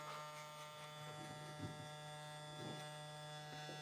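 An X Pro hair clipper trims a skin fade with a constant buzzing hum close by, and faint soft scraping as the blade passes over the head.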